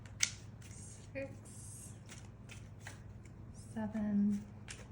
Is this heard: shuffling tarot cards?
yes